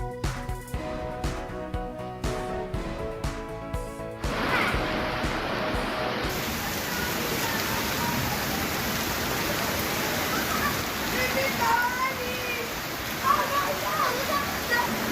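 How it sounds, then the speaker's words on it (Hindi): Steady drizzling rain on an overcast morning, a continuous broadband hiss that becomes fuller and louder partway through, with no talk heard. "रिमझिम बारिश का सिलसिला जारी है।"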